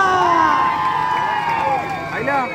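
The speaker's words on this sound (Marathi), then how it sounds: "सुंदर सुंदर सुंदर असा जोरदार टाळ्या होत्या" A large crowd cheers loudly at a Govinda human tower as it reaches the sixth tier. Many voices shout and whoop together in a continuous roar for the whole moment.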